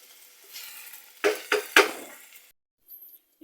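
A spoon scrapes and clanks against a pan while eggplant omelette filling cooks, three sharp clatters over a soft sizzle, then the sound drops to near silence with one brief knock at the end.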